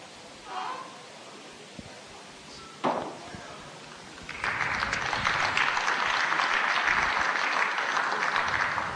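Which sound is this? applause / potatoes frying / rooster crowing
applause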